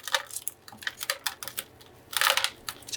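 A knife cuts into a dying cactus with a run of close, crisp crunching and clicking snaps, irregular and dry, with a denser crackling burst near the end.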